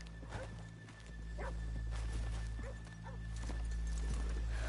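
Horses in Red Dead Redemption 2 shuffling and clopping their hooves in an old western town street, with a couple of short snorts or whinnies over a steady low ambient hum.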